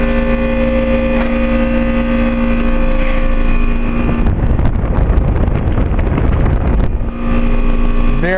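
A 2011 Trane XL20i 3-ton heat pump runs in heat mode outdoors, its compressor and fan giving a loud steady tonal hum, briefly swamped midway by a rushing, gusty whoosh before the hum returns.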